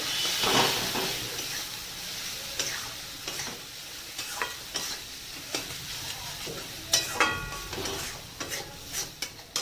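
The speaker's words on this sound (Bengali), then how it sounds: "এবারে মশলাটাকে কষাতে হবে ভালো করে" A spice mix of turmeric, cumin and coriander powder with salt sizzles as it is sautéed for a drumstick curry, with a constant frying hiss broken by repeated spatula scrapes and taps against the pan.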